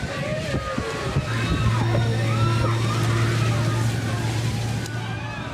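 Tsunami water rushes through an urban area, a continuous churning slosh and roar with a low engine-like hum underneath. A voice talks over the flood throughout.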